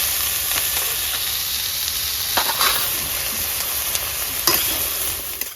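Chicken pieces fry in a pan with turmeric and salt, giving a steady close sizzle and hiss broken by a few sharp stirring scrapes and clinks, with no one talking.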